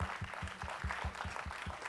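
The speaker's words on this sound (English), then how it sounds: "A round of applause for all of them." A crowd at a school youth parliament event clapping, heard faintly as a steady spread of many hands with a more distinct rhythmic clap in front, with no voices over it.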